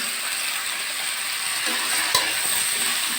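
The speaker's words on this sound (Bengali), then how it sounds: "আমি আলুগুলো লাল লাল করে ভাজবো" Diced potatoes fry in oil with salt and turmeric, a continuous close sizzle with a brief clink of stirring near the end.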